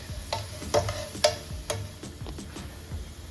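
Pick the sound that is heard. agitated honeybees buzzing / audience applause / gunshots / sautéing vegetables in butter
sautéing vegetables in butter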